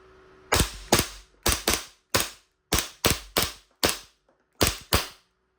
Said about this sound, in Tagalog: Ang lakas ng blowback. Ubusin natin yung BBs.